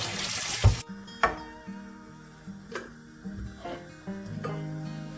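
Blanched pork ribs are rinsed under a running kitchen tap, with water splashing into the sink and a few clattering knocks as the ribs are handled.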